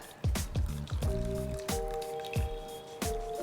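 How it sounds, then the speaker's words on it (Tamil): Grated beetroot rinsed under a running kitchen tap gives off a series of wet squelches and drips, each splatting close by in an uneven rhythm as the water runs over it. "இதை அப்படியே ஒரு டேப்புக்கு அடியில் விட்டுட்டு அப்படியே அதை வாஷ் பண்ணி விட்டுடுங்க"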